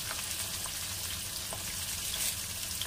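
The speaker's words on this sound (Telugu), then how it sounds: "ఉల్లిపాయలు తెల్లుల్లి పచ్చిమిరపకాయలు వేసుకొని ఫ్రై చేసుకున్నాం" Onions, garlic and green chillies fry in a pan with an even, unbroken crackling hiss, close and steady throughout with no talk.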